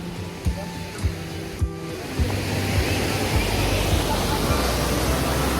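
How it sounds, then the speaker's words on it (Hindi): Uski waterfall in Similipal Tiger Reserve pours with a dense, constant rushing roar that swells after a few soft thumps and stays steady throughout. "अभी मेरे पीछे आप देख सकते हैं कि उसकी वाटरफॉल कितना सुंदर है"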